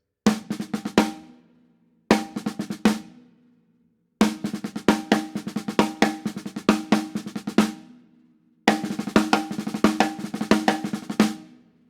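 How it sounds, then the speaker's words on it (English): Six-stroke roll rudiment played on a drum in four phrases of crisp, rapid strokes with accents at the start and end, each phrase ringing briefly into a short silence, close and with no talking. "And another placement for the 6-stroke roll, which is its common usage."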